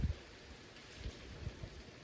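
Soft, steady rain patters outside in Sicily, with low rumbling thumps underneath and no voices.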